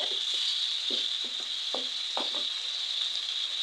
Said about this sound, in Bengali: এসে ঢাকনাটা খুলে আবার একটু লাড়াচাড়া দিয়ে দিই।